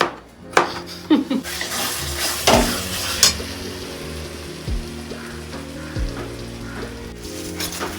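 Spices stir-fried in a pan in a home kitchen, with scattered scraping and clinking of a utensil against the pan over a steady low sizzle, loud and close, no talk.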